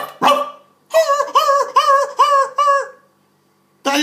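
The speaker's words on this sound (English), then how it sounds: "That's a dog named Floppy." A cartoon dog gives a quick run of five loud, close, voiced barks, likely voiced by a person. A single sharp yelp comes before the run, with another sound starting right at the end.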